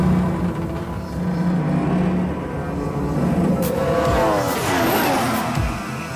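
A Formula 1 car brakes hard from high speed going downhill into a sharp right-hander at the Red Bull Ring, its engine note falling quickly through downshifts while the loud, close whine sweeps down.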